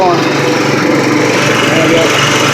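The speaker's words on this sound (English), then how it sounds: "You can hear the motor drags down when I kick that on." A push mower engine driving a generator bogs down under load, a loud, close, rough drone with a steady rapid chugging that carries through the whole moment.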